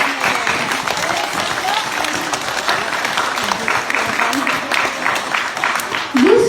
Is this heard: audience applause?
yes